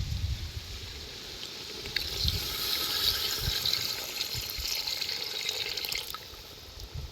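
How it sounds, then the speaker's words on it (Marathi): Hot water is poured from a covered pan into chicken curry cooking over a wood-fired stove outdoors, a soft gurgling splash with low thumps and rustles, fairly quiet and close, without speech. "आता या झाकलेल्या परातीत पाणी तापलंय. ते आता या चिकन मध्ये ओततो."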